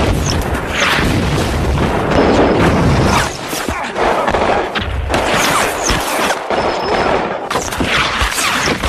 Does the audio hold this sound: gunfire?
yes